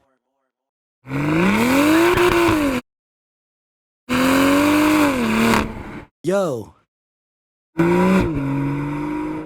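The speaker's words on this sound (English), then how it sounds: "Is that a Supra?" A modified 2021 Toyota GR Supra making 515 wheel horsepower revs hard in four loud bursts, each rising and falling in pitch, with a very short sharp blip before the last one and silence between them. A voice briefly speaks.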